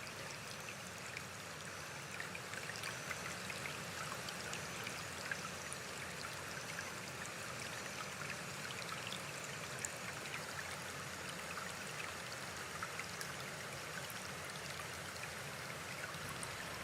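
Flowing water for a meditation session, a steady soft stream with trickling and babbling, quiet and continuous without talk.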